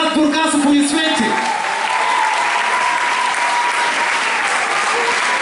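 An audience applauds a singer at an awards ceremony for the Sarandev pop-rock contest, sustained dense clapping filling the room after a voice ends at the start, with faint tonal sound beneath.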